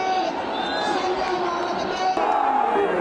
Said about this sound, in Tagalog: mas nagiging masidhi ang panalangin at hiyawan